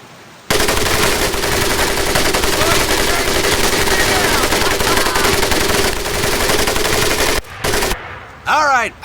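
Heavy machine gun fire in Medal of Honor Pacific Assault, a loud, unbroken rattling burst lasting several seconds that cuts off abruptly, followed by brief shouted voices and whooshing effects.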